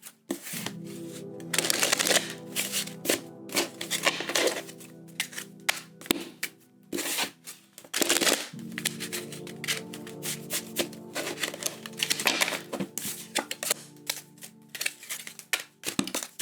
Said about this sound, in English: we are going to do 3 shuffles